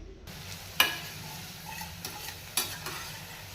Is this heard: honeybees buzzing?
no